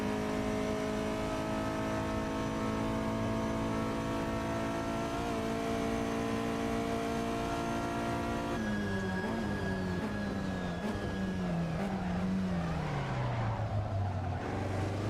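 Vintage GTC race car engines in SROL racing, a loud steady drone that breaks into shifting, pitch-sliding tones as cars pass and fade away, with no voices.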